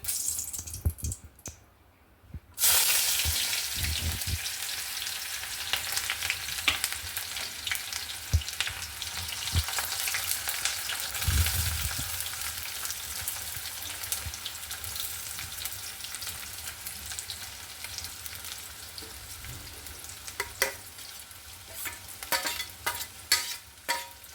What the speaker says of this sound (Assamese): এতিয়া মই ভাজি লওঁ চাই থাকক